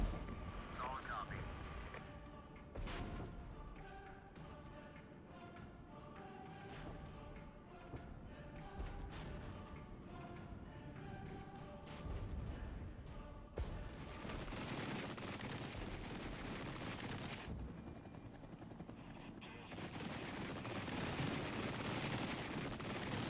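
Rapid crackling bursts of DPICM artillery submunitions in the Cold War strategy game Regiments, a dense string of sharp cracks over sustained rumble and tonal game sounds, growing heavier and louder in the second half, with someone talking over it.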